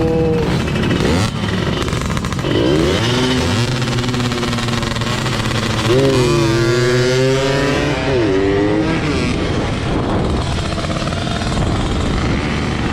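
A two-stroke motorcycle engine drones steadily throughout a ride in Makassar, rising and falling in pitch as it revs and shifts, with steady road and wind noise underneath.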